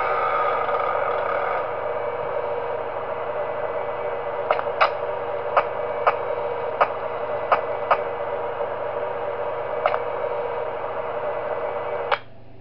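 A laundry machine in Five Nights at Wario's 3 hums steadily in the laundry room, joined by sharp mechanical clicks at irregular intervals and cut off abruptly at the end.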